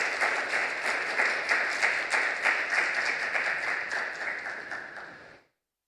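A church congregation at a Sunday service claps to welcome a pastor to the pulpit: steady, dense applause from a large crowd that holds evenly for about five seconds, then cuts off sharply, with no voices.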